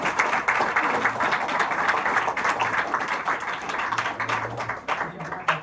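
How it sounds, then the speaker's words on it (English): Audience applause at a general meeting, a steady wash of clapping heard under and between voices that continue talking over it. "Let's give a big round of applause."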